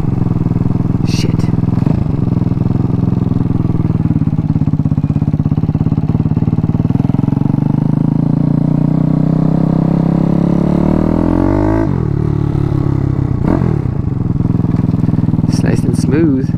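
A Daytona 212cc engine fitted to a Grom clone motorcycle runs steadily at a smooth idle with a rev rise near the end, close and loud, with talking over it.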